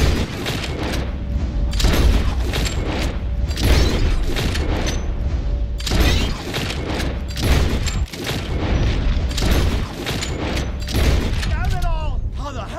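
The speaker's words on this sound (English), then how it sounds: "Whoever shoots more of these bottles wins. Just draw your gun and aim when you're ready" Revolver shots crack one after another in the Red Dead Redemption video game as bottles are shot in a shooting contest, sharp and fairly loud over steady game ambience and music.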